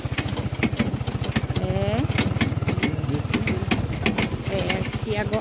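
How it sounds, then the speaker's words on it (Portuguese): A motorcycle putters along a dirt track in first gear with a rapid, steady low engine pulse close up, punctuated by bumps and clicks, while brief voices speak over it. "A moto deu uma ressabiada aqui, mas o piloto é bom, viu?"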